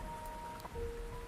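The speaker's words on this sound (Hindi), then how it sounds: "इतनी तेज बारिश में ज्यादा देर यहां खड़ा भी नहीं रह पाऊंगा" Heavy rain pouring during a storm, a dense steady hiss filling the background with a faint tonal hum over it, no one speaking.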